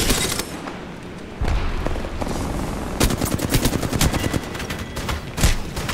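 Gunfire in the Apex Legends shooter game: loud, rapid automatic bursts and single booming shots crowd together almost without pause, with denser volleys in the second half.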